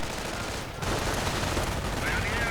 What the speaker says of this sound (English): Mike firing away at the riflemen there